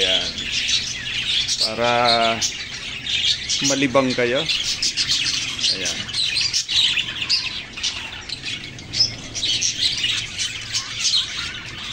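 Pet budgies, cockatiels and pigeons kept on a rooftop chirp and squawk continuously nearby, with a few louder calls standing out, while a person speaks briefly over them.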